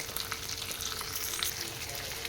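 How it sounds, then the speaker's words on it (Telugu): Ginger garlic paste sizzles steadily in hot oil in a pan for a capsicum curry, a loud continuous crackling fry with no talking. "కరివేపాకు క్యాప్సికం కొద్దిగా ఫ్రై చేసుకోవాలి"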